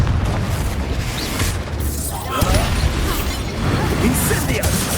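The Confringo fire spell explodes during a Hogwarts Legacy duel, heavy rumbling booms and crashes that swell midway while voices speak over the battle.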